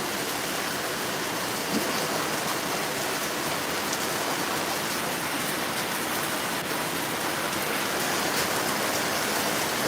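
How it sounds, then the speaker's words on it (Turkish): Hail falls with rain in a mountain village at about 1200 m altitude, a dense, steady patter and hiss of drops striking surfaces, continuous and even with no voices. "şu anda doluyla beraber yağmur yağışını izliyoruz"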